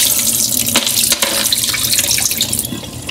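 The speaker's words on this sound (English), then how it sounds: "I'm going to pour off this water off the shrimp." Water splashes and pours steadily off shrimp into a sink, a loud continuous rushing gush with small irregular splatters throughout.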